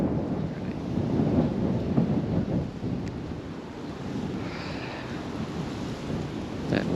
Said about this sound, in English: That wind would just die down, it'd be good. But just wants to keep blowing.